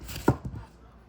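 A single crisp chop as a knife slices through napa cabbage for kimchi, one short close cut followed by a faint lighter tap.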